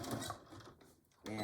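A sewing machine runs a short back stitch on a Betty Boop pillow cover, a brief whirring burst between moments of talk.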